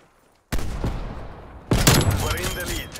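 Gunshots in Call of Duty: Black Ops Cold War break a short silence with a loud burst, then a second sharper volley of fire follows about a second later, ringing and echoing close by.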